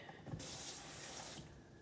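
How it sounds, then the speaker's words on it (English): Cold water runs from a kitchen tap over a raw whole turkey being rinsed in the sink, a steady close splashing hiss that swells in the middle and eases toward the end. "Now we are going to rinse it."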